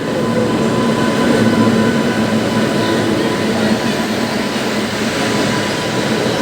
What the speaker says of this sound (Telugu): ఓ, ఇవి ఎలక్ట్రిక్ ట్రైన్లు.